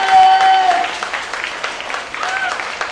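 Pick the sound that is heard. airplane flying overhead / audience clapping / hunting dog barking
audience clapping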